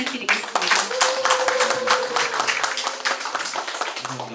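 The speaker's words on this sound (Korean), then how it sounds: "큰 박수 부탁드리겠습니다" Audience applause at a live author talk event in Daejeon, a steady wash of clapping with a host's voice heard briefly over it, filling the whole stretch.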